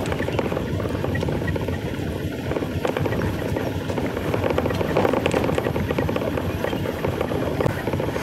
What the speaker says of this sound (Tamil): எக்ஸ்லேட்டர் கொடுக்காமல் வண்டி ஓட்டிகிட்டு